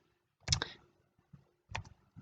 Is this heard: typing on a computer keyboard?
yes